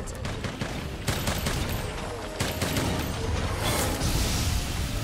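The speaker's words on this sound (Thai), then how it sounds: "ยิงผลักมันไปเรื่อยๆ" A bowgun fires water-element Aquashot rounds nonstop against Safi'Jiiva in Monster Hunter World: Iceborne, producing a dense rattling stream of shots and impacts over loud battle noise, with faint voice underneath.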